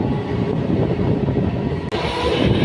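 A metro train runs straight through Doddajala railway station without stopping, a loud, continuous rumble and rattle of rail cars close by with a brief sharp clack near the end.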